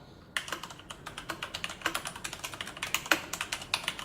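Rapid, uneven keystrokes clatter on Ducky YOTR and Leopold FC660 mechanical keyboards, close and fairly quiet, a steady run of sharp clicks with no voices.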